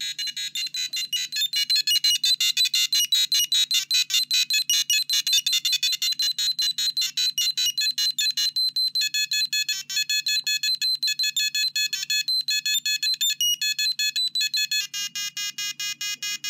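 A shrill electronic tone pulses rapidly and steadily through a small speaker, warbling and shifting pitch, with brief gaps, loud and close with no voices.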